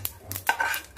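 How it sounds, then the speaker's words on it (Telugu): Green chillies fried and stirred in a pan for gongura pachadi: a few quick metallic scrapes and clinks of a spoon against the pan over a faint sizzle, close and brief. "పచ్చిమిరపకాయలు వేయించుకుంటున్నానండి"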